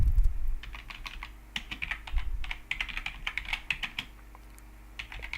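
Quick, light taps of typing on a computer keyboard, in uneven bursts of clicks close by and fairly quiet, with no speech over them.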